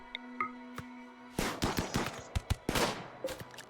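Gunfire in the colony game RimWorld: after a quiet stretch with a few faint tones, a cluster of sharp shots and short bursts breaks out, irregular and fairly loud, continuing in scattered cracks toward the end.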